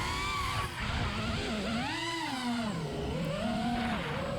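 An FPV drone's motors whine and surge as the throttle is punched, their pitch sweeping up and down repeatedly through a few seconds of flight, fairly faint against a background hiss.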